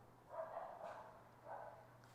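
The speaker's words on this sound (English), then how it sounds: "we have to have dogs barking" A dog barks a few times in the distance, faint and muffled, in a garage where a Scout is being built into a desert race truck.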